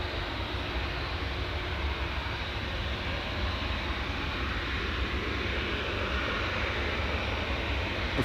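A British Airways Airbus A319 bound for Heathrow rumbles with a steady broadband jet roar, moderately distant and continuous, with no talk.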